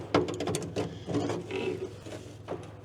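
Ratchet clicking as it turns sheet metal screws loose on a 1964 Jeep CJ5, close rapid bursts of ratcheting clicks in several short runs with brief pauses between.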